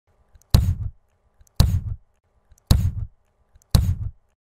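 A group of people vocally imitate drum hits with T and D mouth sounds in a beatbox exercise: four sharp, evenly spaced beats about a second apart, with near silence between them and no talking.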